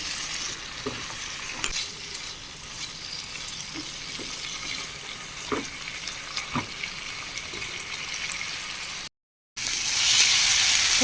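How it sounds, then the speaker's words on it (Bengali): Chili powder and turmeric masala sizzles and fries in a pan as pointed gourd curry, made with goat fat, is stirred steadily, with scattered scraping clicks of the spoon over a constant hiss. "এক চামচ লঙ্কা গুঁড়ো দিয়ে ভালো করে কষিয়ে নেব।"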